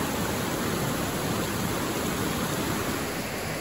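Winter waterfall in Plitvice Lakes National Park, Croatia, pouring in a dense, steady broadband rush that stays loud and unbroken, with no voices over it.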